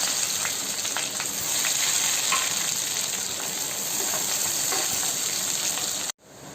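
Onion sizzling in hot oil with mustard seeds, cumin and curry leaves for ennai kathirikai kulambu, a steady dense frying hiss with small pops, close and continuous, cutting off sharply near the end.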